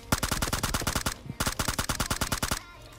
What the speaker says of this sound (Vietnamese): Bắn hết vào đá thế này.